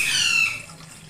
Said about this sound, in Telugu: నేను వీడియోలో చూపించిన విధంగా ఈ గ్లాస్తో 3 గ్లాస్ వాటర్ పోసుకున్నానండి